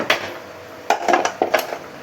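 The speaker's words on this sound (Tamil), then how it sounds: "இப்போ பாருங்கள் குக்கரை திறக்கலாம்" Metallic clanks and scrapes as a pressure cooker of lentils for sambar is opened, a few sharp knocks close by with brief rattling.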